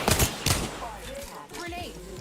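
Rapid gunfire in the battle game Apex Legends comes as dense, crackling bursts at the start, then eases off while a player's voice speaks over the fading shots.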